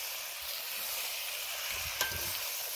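Sliced yellow and red tomatoes and peppers fry quietly in a pan on an electric stove, a soft steady sizzle with a brief stirring knock near the end.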